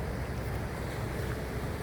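Water rushes steadily along a stream in Laos, a continuous broad roar with wind-like hiss that holds at an even level throughout, with no voices.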